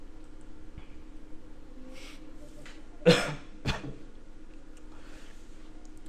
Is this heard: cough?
yes